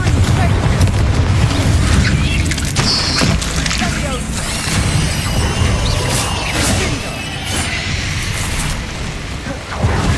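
Confringo and Bombarda explosion spells in a Harry Potter video game, dense continuous booming blasts layered over each other, loud and close for the whole stretch.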